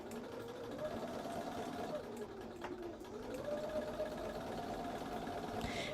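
A sewing machine runs steadily, stitching a quarter-inch seam along the edge of a holiday placemat, with a continuous mid-pitched motor hum that dips briefly midway before resuming at a fairly even level.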